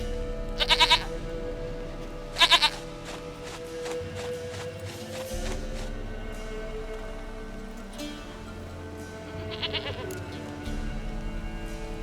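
Goat bleating in The Witcher 3, three sharp bleats, two close together early and one later, over quiet ambient game sound and soft patter.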